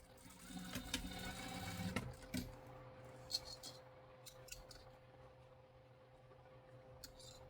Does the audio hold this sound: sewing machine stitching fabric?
yes